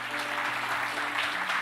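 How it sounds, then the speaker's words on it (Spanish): A church congregation breaks into applause, dense and steady clapping from many hands filling the room for a brief moment. "¿Por qué no le doy un aplauso al Señor por esto?"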